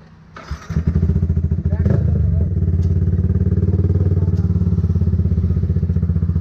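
A customized racing motorcycle with a free-flow full-system exhaust and no catalytic converter fires up nearby, then settles into a loud, throbbing, rapid-pulsed idle with a brief rev early on.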